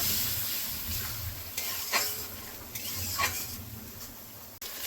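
Poppy seeds frying in a pan with a steady sizzle and hiss, stirred with occasional soft scrapes, for a Bengali potol beresta dish.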